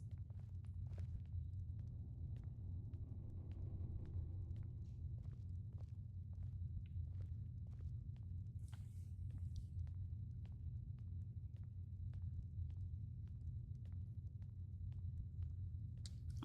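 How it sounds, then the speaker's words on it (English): Footsteps going up and down stairs in Skyrim, a series of faint, sharp, evenly spaced taps over a low steady rumble, distant and quiet, with no voices. "Those footsteps sound very close."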